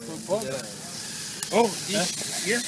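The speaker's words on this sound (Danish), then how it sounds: "Nu er der ved at grille de der brød." Bread sizzles and hisses on an outdoor grill, a steady frying crackle running underneath several short bursts of people talking nearby.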